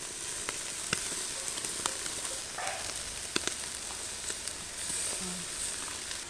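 Chicken sizzles over a hot charcoal barbecue fire as oil is brushed on, a steady soft hiss and crackle with occasional sharp pops, close and fairly quiet.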